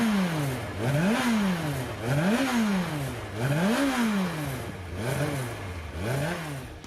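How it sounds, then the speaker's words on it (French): A twin-cam, 16-valve carburetted motorcycle engine with a five-speed gearbox revs repeatedly up and down in steady rising and falling sweeps, loud and close, with no voices over it. "Ce moteur a du souffle, il est onctueux et même s'il est gorgé de couple"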